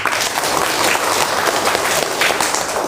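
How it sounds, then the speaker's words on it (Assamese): Dense, steady applause from many hands fills the room after a classroom atmospheric-pressure water demonstration, continuous and fairly loud throughout with no pauses. "হাত চাপৰি দিব লাগিছিল।"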